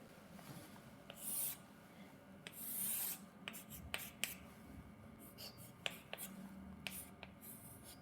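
A pen scratches across paper while drawing a graph, with soft, raspy strokes coming in short bursts; the sound is quiet and close.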